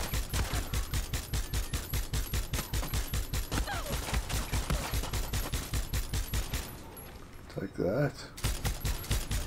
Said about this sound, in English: Oh yeah, I love the mounted gun